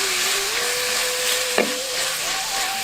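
Steady frying sizzle of chopped tomatoes sautéing in a pan, with a faint tonal hum underneath and a brief clink of a utensil midway; no voices.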